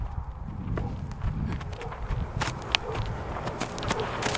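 Horse named Tao walking with a young rider aboard, hooves giving a steady, moderately close clip-clop over a soft ambient background with a few sharper hoof strikes.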